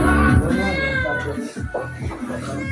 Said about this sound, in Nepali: कहाँ छ बिरालो ल यहीँ पर